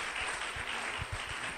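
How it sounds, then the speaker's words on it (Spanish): A church congregation applauds in steady, even clapping, heard at moderate volume and fairly close for a short stretch. "denle el aplauso"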